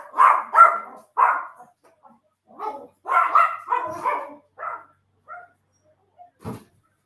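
Dogs indoors bark and yip in short bursts, several quick barks followed by scattered whines and a last sharp bark, with quiet gaps between them.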